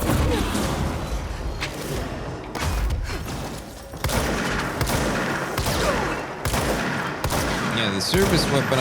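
Rapid bursts of gunfire from the service weapon in the video game Control crack and boom close up, repeated volleys with impacts and mechanical clunks, someone talking over the shooting.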